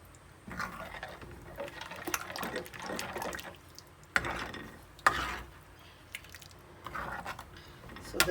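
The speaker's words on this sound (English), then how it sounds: "Mix the whole thing." Plain yogurt being stirred into a pot of South Indian winter melon curry (pusinikai more kuzhambu), giving soft wet squishing and scraping strokes in an irregular rhythm, close and moderately quiet, with no talking.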